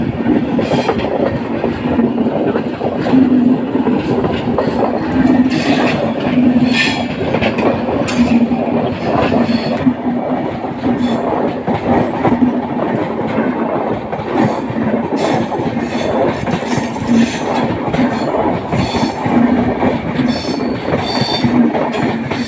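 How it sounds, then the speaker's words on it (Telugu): The Nizamuddin–Madurai express rushes past at speed, a loud continuous roar with steady clickety-clack of wheels over rail joints and metallic squeals, close and unbroken throughout. "చాలా స్పీడ్ అందుకుంది ఫ్రెండ్స్. నిజాముద్దీన్ మదురై ట్రైన్."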